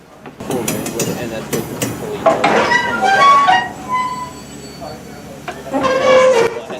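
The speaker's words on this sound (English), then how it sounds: "we got to watch as the spring coupling on 16607 compressed into the caboose" Spring coupling on train 16607 compresses into a caboose at the end of the line at Colonial Hills, giving clattering metallic clanks and squealing tones over a steady rail rumble, with people talking nearby.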